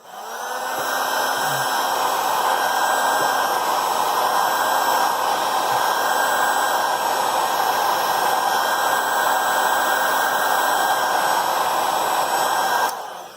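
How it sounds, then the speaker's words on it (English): A heat gun blowing on the back glass of a Samsung Galaxy S10 phone, a loud, steady airy roar with a motor whine that switches on, holds for over ten seconds and then cuts off. "So use the heat gun or the blower heater, but you need to heat it up pretty good."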